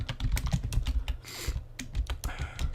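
Quick, steady typing on a computer keyboard while entering Unity JavaScript code, with dense clicky keystrokes and a few heavier key presses close to the microphone.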